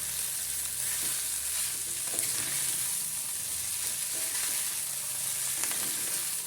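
Sabudana khichdi with finely chopped coriander stirred in a pan, giving a steady close sizzle broken by soft spoon scrapes and stirring strokes, with no voices.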